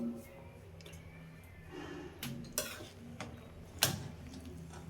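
A spoon stirs mushroom biryani in a pot after pressure cooking, making quiet, close scraping with sporadic sharp clinks of metal against the pot.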